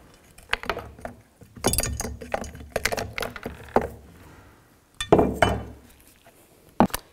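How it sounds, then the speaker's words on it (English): A 10 mm socket works the nuts off the electric air pump bracket of a 1998-2010 Volkswagen Beetle, giving sharp metallic clicks and ratcheting bursts in irregular clusters, close up and fairly loud, with quiet gaps between them. "Now we're going to take these nuts off, use a 10 millimeter socket"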